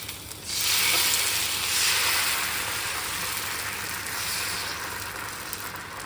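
Malvani ghavan batter sizzling steadily in a greased pan, a soft continuous frying hiss that rises after a brief quiet start and holds at an even level, with no voices.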